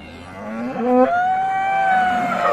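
A Friesian cow moos with a long drawn-out call at a village cattle market in Dinajpur, loud and close, with crowd murmur underneath.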